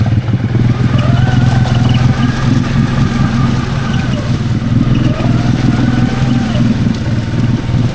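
Can-Am Outlander XMR 700 ATV creeping slowly through thick swamp weeds, its engine a loud, steady low drone with a rising and falling tone as the tires barely turn.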